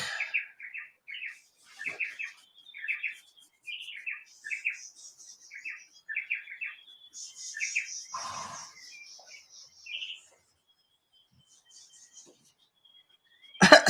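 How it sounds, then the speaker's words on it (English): Small bird chirping in quick repeated bursts of bright tweets, fairly close, with a few pauses and a louder chirp near the end. "Sorry about that baby bird before."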